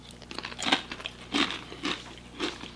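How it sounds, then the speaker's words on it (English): Crisp crunching bites of a chip loaded with keto seven-layer dip, four or five loud crackly crunches close to the mic, with chewing between them. "Y'all hear that crunch?"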